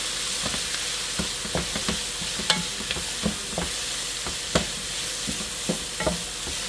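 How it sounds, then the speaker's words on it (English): Chopped onions and vegetables sautéing in a pan for a stir-fry with chicken thighs and rice, a steady close sizzle broken by frequent light scrapes and clicks of stirring at an uneven rhythm, with no talk. "sauteing those veggies so they can go with the meal"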